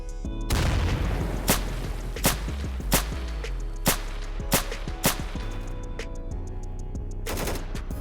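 Loud sniper rifle gunshots in the video game S.T.A.L.K.E.R. Lost Alpha crack one after another at steady intervals over a dense, roaring bed of rapid gunfire and rumbling noise.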